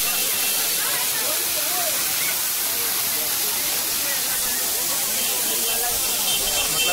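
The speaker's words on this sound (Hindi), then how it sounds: "आवाज़ सुन के ही कान को इतना सुकून मिलता है ना, पानी की आवाज़।" Gira waterfall in Dang rushes in a constant, loud roar of falling water and spray that fills the whole stretch without pause or change.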